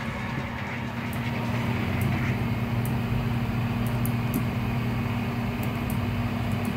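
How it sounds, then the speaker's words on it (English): A train arriving in the video game Project Playtime: a steady mechanical rumble with a sustained hum, punctuated by faint rhythmic clicks, loud and continuous throughout. "This is the train."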